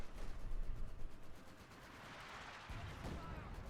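MG42 machine gun fire in the Company of Heroes 2 game, heard as rapid crackling bursts of automatic fire mixed with other battle noise, moderately loud, with a voice talking faintly underneath.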